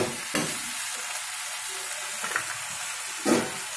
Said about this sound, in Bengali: নেড়ে ভালোভাবে নেড়ে এরপর ঢাকা দিয়ে দেবো।